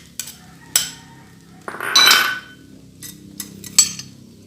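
Fried rice with corned beef and hotdog stirred in a pan, a few sharp spatula clanks against metal and a short scraping swirl in the middle, close and alone.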